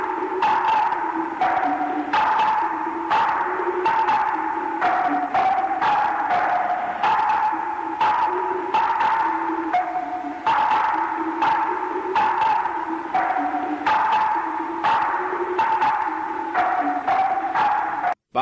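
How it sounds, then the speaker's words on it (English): Echoey soundtrack effect like two people playing ping pong in an echo chamber, steady sharp ticks bouncing back and forth over a droning tone throughout, loud and continuous in an anime scene. "this scene is backed with what sounds like two people playing ping pong in an echo chamber"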